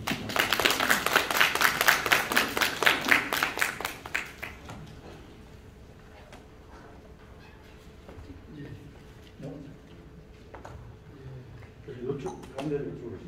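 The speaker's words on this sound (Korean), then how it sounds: "박수로 환영해 주십니다" Audience applause welcomes a lecturer onto the stage at a Korean peace-school lecture, a dense burst of clapping that fades after about four seconds into quieter room noise with scattered talk.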